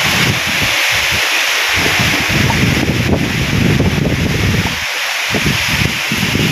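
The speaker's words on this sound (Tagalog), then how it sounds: "Bigla-bigla po ang hangin dito." Sudden strong wind on a countryside farm buffets the microphone in a steady loud roar, with leaves rustling and brief dips where the gusts ease before surging again.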